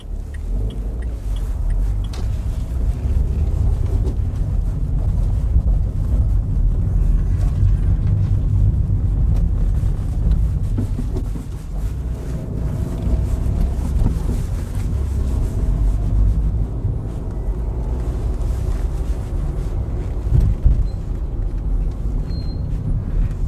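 A Dacia Dokker van drives through city streets, heard from inside the cabin as a steady, loud, low road and engine rumble with some wind noise and occasional small bumps.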